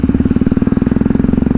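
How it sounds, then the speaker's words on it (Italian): A Yamaha MT-03 660 fitted with Rhodes Italia Special aftermarket exhausts idles close by, its loud, deep exhaust thumping in a quick, even pulse. "il sound che state sentendo e che avete sentito per tutto il video non è il sound originale della moto, ma è il sound degli scarichi Rhodes Italia Special"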